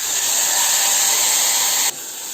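Dal is poured into hot tempering oil with mustard seeds, cumin, garlic and turmeric, giving a loud, steady sizzling hiss that suddenly drops to a quieter sizzle near the end, with no talking.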